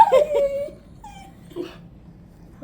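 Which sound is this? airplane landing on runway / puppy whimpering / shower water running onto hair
puppy whimpering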